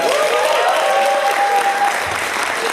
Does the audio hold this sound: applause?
yes